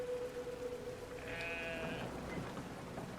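Sheep bleating in the video game Brothers: A Tale of Two Sons, a single wavering bleat over a steady background of rain-like ambience and a low tone.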